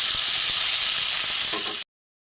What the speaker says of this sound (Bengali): টমেটো পেঁয়াজ দিয়ে দিয়েছি, একটু ভাজা ভাজা হবে।